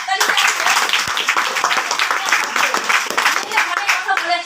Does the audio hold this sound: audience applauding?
yes